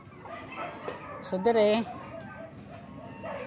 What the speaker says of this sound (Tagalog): Ito mga manok